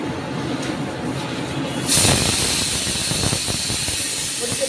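Cardamom, cinnamon and cloves dropped into hot oil and ghee, breaking into a loud, steady hissing sizzle that starts abruptly partway through and carries on to the end.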